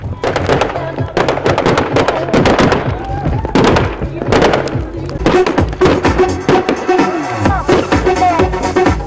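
A fireworks display at a ski season opening celebration in snow and blizzard, with young people dancing to music, gives loud rapid bursts and crackling pops over continuous music and crowd noise.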